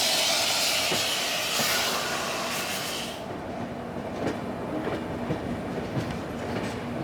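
Hazrat Nizamuddin Thiruvananthapuram Express passing on the line towards Ajmer, a loud steady roar and hiss with rhythmic wheel clatter that drops in brightness partway through.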